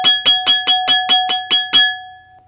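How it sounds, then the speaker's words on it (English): A little bell tinkles in a quick run of nine bright, even strikes that ring on and fade out, close and clear with no other sound. "A little bell tinkled."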